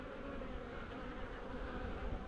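Honey bees swarming around a busy double brood hive in an apiary, a dense continuous buzzing drone that holds steady and close throughout.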